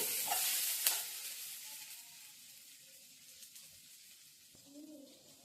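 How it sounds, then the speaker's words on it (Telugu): Chopped flat beans (chikkudu kaya) fry in oil in a pan, a steady close sizzle with occasional stirring scrapes and light clinks that slowly settles quieter. "సో ఇవి ఒక 2 మినిట్స్ ఫ్రై అవ్వనివ్వాలి."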